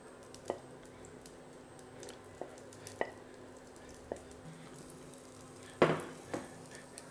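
Onions sautéing in a pan for a Greek breakfast scramble, heard as a quiet, low sizzle punctuated by a handful of sharp utensil clicks and taps against the pan, with one louder scrape near the end and no talking.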